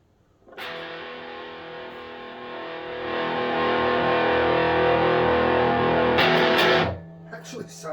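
A Donner DST-100R super-strat style electric guitar played through distortion, heard live in the room: a sustained, loud fuzzy chord ringing for several seconds, swelling midway, then a brief burst of picked notes before it cuts off.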